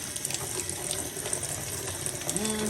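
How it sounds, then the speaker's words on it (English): Tap water runs steadily into a kitchen sink being washed out, a close, continuous splashing rush with a few small clinks, and no talking. "I want to wash my sink out real good"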